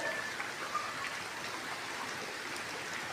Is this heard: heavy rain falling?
yes